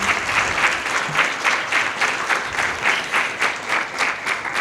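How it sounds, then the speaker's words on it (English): Sustained audience applause at a library program event, a dense steady wash of many hands clapping with gentle swells, close and continuous throughout. "Can we give them another round of applause, please?"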